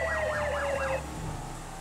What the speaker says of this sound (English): I know some of you guys enjoy the sirens though, but this is a code 3, so why not?